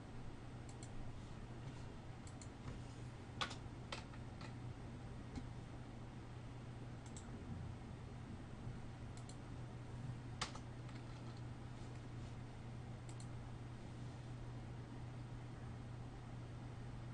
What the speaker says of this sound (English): See, now I typed something